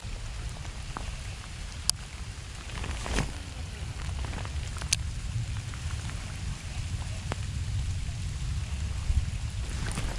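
Rain falls steadily outdoors during bank-side bass fishing, a dense soft hiss broken by scattered sharp drop ticks, with a low rumble beneath and no speech.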